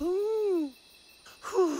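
A cartoon character snores: one long, tonal, wavering in-breath, a quiet pause, then a second rising snort-like breath begins.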